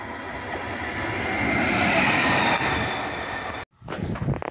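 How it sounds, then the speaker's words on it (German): A locomotive transfer run, apparently a class 112 electric locomotive, passes close by with steady, loud rail noise that swells and holds, then is cut off abruptly near the end, followed by rougher, uneven sound. "Das ist eine Lokomotive nur."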